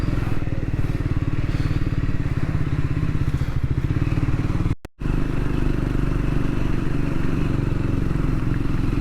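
A Triumph Scrambler 400X motorcycle rides in third gear over a rough, bumpy road, its engine thrumming steadily and loudly throughout, with a brief dropout midway before the drone resumes.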